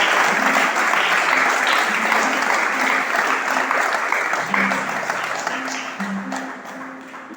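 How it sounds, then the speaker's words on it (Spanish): An audience at a religious teaching gathering breaks into sustained applause, a dense steady clapping that fills the space and slowly fades toward the end. "¿Cuántos le dan un aplauso al rey?"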